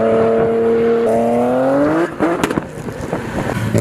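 A BMW E36 3 Series engine revs loudly and close, its tone climbing smoothly for about two seconds before dropping into a rougher, crackling burble.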